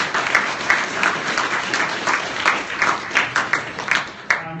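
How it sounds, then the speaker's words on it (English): An audience at a KyivJS JavaScript meetup talk breaks into a round of applause, dense and steady clapping that fills the room with a few sharper claps standing out, ending abruptly. "Thank you, round of applause."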